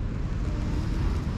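Sea wind blowing across a beach in Turkey, a steady low rumbling buffet with no clear gusts or other sounds over it.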